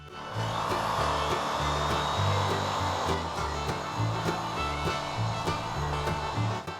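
An angle grinder fitted with a flap disc sands wooden boards for raised garden beds, giving a steady, loud abrasive whir with a low motor hum and rhythmic pulsing as the disc is pressed and moved, with no talk.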